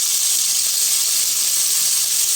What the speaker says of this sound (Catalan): Amb l'oli ben calent i afegim la carn de vedella per estofar.